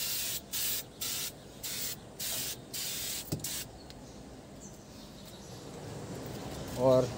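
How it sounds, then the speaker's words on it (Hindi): A trigger bottle sprays interior cleaner onto a car seat in about eight rapid, evenly spaced hissing bursts, close and distinct, followed by quieter handling sounds. "उस वाली सीट पे भी हम इसको स्प्रे करेंगे।"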